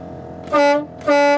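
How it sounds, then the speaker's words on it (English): Two loud, close blasts from an air horn on a 1976 GMC motorhome, each a brassy multi-tone honk lasting about a third of a second, separated by a short pause. "That's the air horn"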